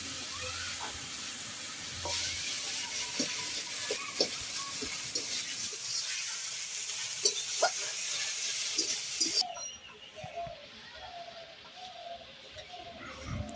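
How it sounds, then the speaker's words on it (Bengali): Flat beans and potatoes fry in a pan in a village kitchen, giving a steady hiss and sizzle with scattered stirring clicks and scrapes. The frying cuts off abruptly near the end, leaving quieter background sounds. "এখন সিম আলুগুলো ভাজা করবে"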